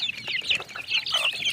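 Pet chicks cluck and cheep continuously at close range while being fed, busy overlapping calls with no speech.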